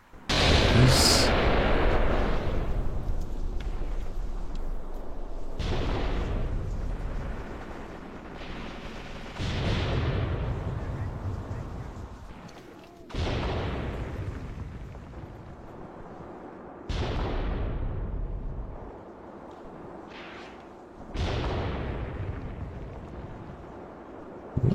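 Incoming artillery fire arrives as a series of heavy, rumbling booms roughly every four to five seconds. Each boom is loud and lingers in a long rolling decay before the next one hits.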